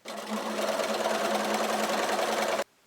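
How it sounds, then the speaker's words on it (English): A sewing machine stitches a ruffle onto a tag blanket, running in one steady, close, continuous whir for nearly three seconds before stopping abruptly. "take your needle out and you can use your hand to help guide it through"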